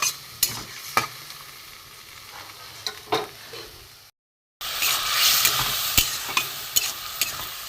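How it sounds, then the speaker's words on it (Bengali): Lota fish (Bombay duck) coated in salt and turmeric sizzles steadily in a pan as a spatula stirs it with intermittent scrapes. The sound cuts out for a moment, then returns with louder frying. "নুন হলুদ দিয়ে লোটে মাছটা ভেজে একদম ঝুড়ো করে নেবো"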